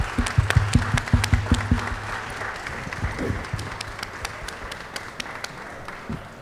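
A panel audience gives a round of applause: a burst of close, distinct claps that thins into scattered, fading clapping over several seconds.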